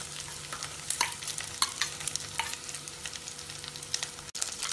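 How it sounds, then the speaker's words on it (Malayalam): Turkey berries stir-fried with shallots and garlic in a pan, giving a continuous close sizzle with regular sharp scraping strokes of a spoon against the pan. "ഇത് 1-2 മിനിറ്റ് ഇളക്കി വഴറ്റാം"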